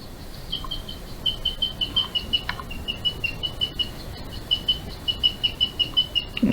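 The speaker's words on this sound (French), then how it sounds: "c'est le chant d'un cochon d'Inde." A guinea pig's singing, played back as a recording: a rapid series of high, thin chirps repeating in a steady pulse over faint background noise.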